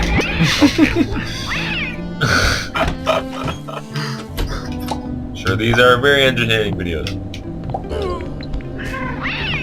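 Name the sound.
cat-like meowing creatures in the video game Braid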